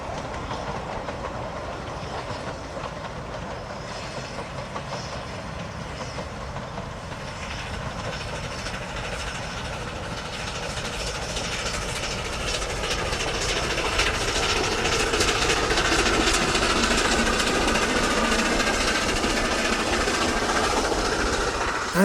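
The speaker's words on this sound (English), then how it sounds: "watch Blanche arriving back onto the cob with the last train of the day" Blanche, a narrow-gauge steam locomotive on the Ffestiniog Railway, draws its train along the Cob, a steady rumble and rhythmic clatter of carriages building louder as it nears, with no talk.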